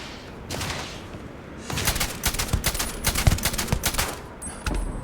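Automatic weapon fire in the Starfield video game: a short burst, then after a pause a long, loud, rapid fusillade of overlapping shots, ending with a final brief burst.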